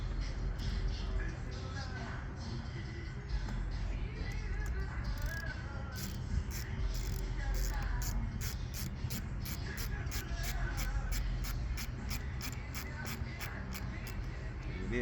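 A hose clamp being tightened on a JLT Performance cold air intake filter on a Dodge Challenger Hellcat, giving steady rapid ratchet clicks that grow denser toward the end over a constant low engine-bay hum, with someone talking.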